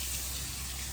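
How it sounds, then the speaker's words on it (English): Water running steadily from a sink faucet, a constant broadband rush that fills the whole clip at an even level, close and alone without talk. "turned the water on, no leaks. And now we got a faucet going"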